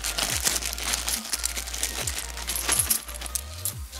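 Small Hungarian forint coins, a pile of 5-forint pieces with smooth edges, clink and drop against one another in repeated close, sharp metallic taps and jingles with no talking.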